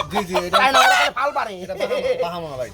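A rooster crows at a busy Bangladeshi poultry market where Bahama, Silky and other chickens are sold, one loud, drawn-out call with harmonic rises and falls, close by over market chatter.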